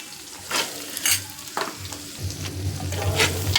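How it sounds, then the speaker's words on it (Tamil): Beans sauté in a pan with fried egg and sizzle steadily, and several scraping stir strokes rise above the constant hiss of the frying. "இப்போது பீன்ஸு போட்டு நல்லா அது வதங்கி வரட்டும்"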